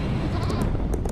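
Goats bleat in a couple of short, quick calls over a dense layer of background noise, heard only for a moment.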